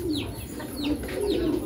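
An Amiran pigeon coos on a pigeon farm in Hyderabad, a few low, rolling coos repeating close by with faint chirps from other birds around.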